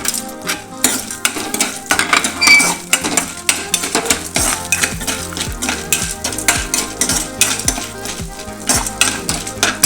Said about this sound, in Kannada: ಬೆಣ್ಣೆ ಇವನ್ನೆಲ್ಲ ಫ್ರೈ ಮಾಡೋದು. ಇವನ್ನೆಲ್ಲ ಐಟಮ್ ಇವನ್ನೆಲ್ಲ ಹಾಕ್ತೇನೆ ಫ್ರೈ ಮಾಡೋಕೆ.